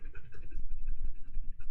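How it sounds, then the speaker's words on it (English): Dogs come in from outside and pant close by in rapid, rhythmic huffs, with faint scratching of paws in a short burst. "My dogs are coming in from outside and panting to death"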